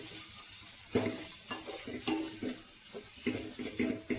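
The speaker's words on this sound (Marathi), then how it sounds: "आणि आता छान मिश्र करूया." Agri-style clam (kalwa) sukka being stirred in a pan, a spoon scraping and turning the thick mixture in a series of soft, uneven strokes with a faint sizzle underneath.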